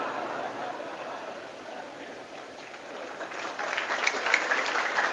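An audience claps at a religious talk, a dense patter of many hands spread across the room, moderately loud and building slightly toward the end.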